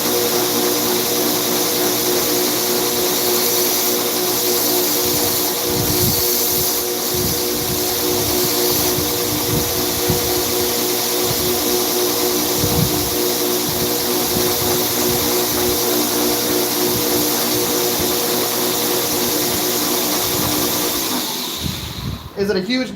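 A grinder runs steadily and loudly for a long stretch, smoothing grind lines near the edge of a metal workpiece, with a continuous whining drone and slight rough fluctuations as it works, before cutting off right at the end.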